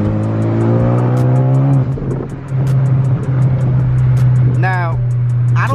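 Ford Focus ST with its sound symposer deleted, heard from inside while driving: a steady engine drone with rising revs and shifts, someone talking over it.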